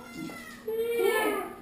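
A pet cat meows at close range in a home podcast room, a rising, drawn-out call starting mid-clip and partly overlapping casual talk.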